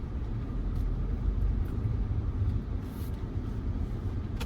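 A car driving along a road gives a steady low rumble of engine and tire noise heard from inside, continuous and even with faint brief clicks, with no talking.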